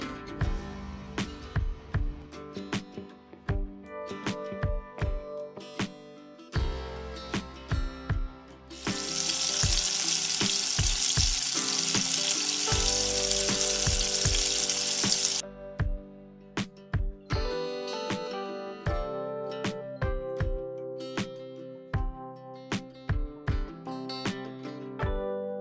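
Raw banana slices fry in a pan with a steady crackling sizzle, a loud hiss swelling for several seconds midway as the slices are flipped, surrounded by sharp clinks and scrapes of a utensil against the pan.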